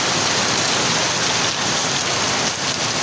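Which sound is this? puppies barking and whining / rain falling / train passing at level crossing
rain falling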